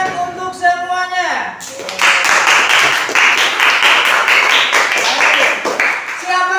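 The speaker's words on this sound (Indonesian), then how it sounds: "Tepuk tangan untuk semuanya" Students in a classroom break into applause for everyone after a voice speaks briefly, the clapping loud, close and rhythmic with distinct individual claps over a steady wash.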